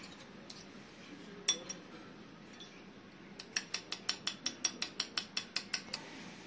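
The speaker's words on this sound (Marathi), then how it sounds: "ही अंडी चांगली फेटून घेऊया" Eggs with salt being beaten in a bowl, a few scattered taps and then a fast, even run of about a dozen light clinks of a fork against the bowl, close and clear.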